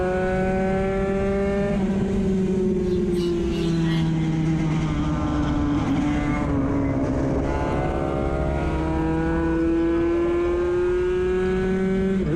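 Racing motorcycles in a 250/300/Moto3 class roar along a track, engines screaming at high revs with pitch shifting as they pass, loud and continuous throughout.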